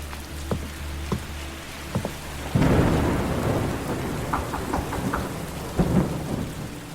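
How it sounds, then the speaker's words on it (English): Thunderstorm with steady rain pattering on surfaces, a few isolated sharp drops early on, then a loud rolling thunderclap that rumbles on for several seconds before the rain continues alone. "lightning lit up the sky. The trees making a jagged display through the rain."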